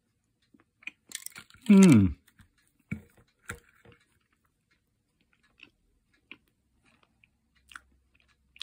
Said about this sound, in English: Let's just have a quick bite and see what they're like.